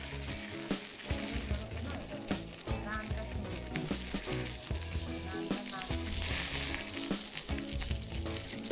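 Marinated tandoori chicken pieces fry in a pan with a dense, continuous sizzle and crackle, close and fairly loud, with occasional spatters throughout.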